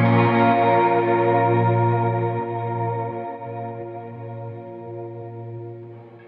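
A guitar played through an Outer Space effect with chorus modulation rings out loud and sustained, a swirling, warbling chord that slowly fades with a long echoing tail.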